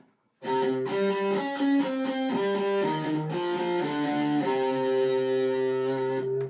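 A distorted electric guitar plays the breakdown riff of a song slowly, a chugging riff of sustained chords and shifting notes, loud and alone with no talking.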